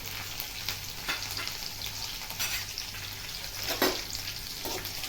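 Cumin seeds, chopped garlic, green chillies and curry leaves frying in hot oil, giving a continuous close, loud sizzle with crackling spits and occasional stirring.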